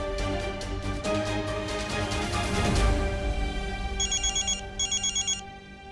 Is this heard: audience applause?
no